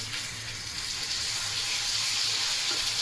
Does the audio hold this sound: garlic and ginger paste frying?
yes